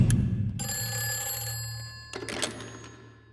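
A telephone bell rings loudly indoors in a film scene. A low thump comes first, then a bright ringing burst that fades, followed by a few soft clunks.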